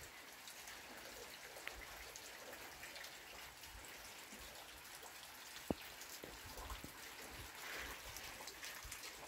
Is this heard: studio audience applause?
no